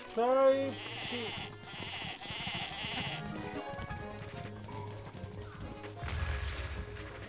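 A sheep in the video game The Legend of Zelda: Breath of the Wild gives one loud, wavering bleat at the start. Sharp combat impacts and busy game noise follow.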